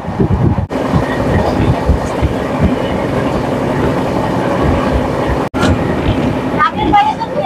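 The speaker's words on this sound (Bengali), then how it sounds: "মোটামুটি ওই 9:30টার দিকে চলে আসবে, যেহেতু ট্রেন তাড়াতাড়ি যাচ্ছে।" Howrah to SMVT Bengaluru Express 12245 running fast: a loud, steady rumble and clatter of a passenger train heard close up from on board for several seconds, with no clear talking.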